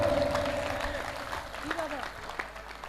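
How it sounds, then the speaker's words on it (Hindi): An audience at a Hindi poetry recital claps in a dense burst that gradually thins out, with voices talking over it. "तो एक बार तालियां बजाओ बाबा मौर्य के लिए, सुनो।"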